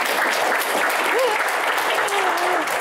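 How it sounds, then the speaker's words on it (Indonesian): Dense, steady applause from a large audience at a formal evening event honoring Indonesia's Attorney General, with faint voices and cheers mixed into the clapping throughout. "Kita berikan tepuk tangan yang paling meriah untuk Bapak Sanetiar Burhanuddin, Jaksa Agun"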